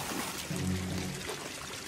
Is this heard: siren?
no